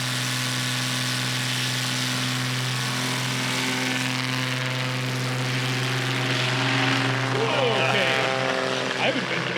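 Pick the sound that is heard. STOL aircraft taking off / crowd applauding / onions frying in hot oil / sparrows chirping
STOL aircraft taking off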